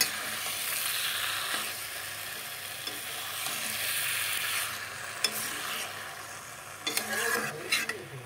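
Vegetables, including pointed gourd and squash with potato, sautéing with spices in a pan hiss in a steady, close sizzle, broken by occasional stirring scrapes and light clinks of a utensil.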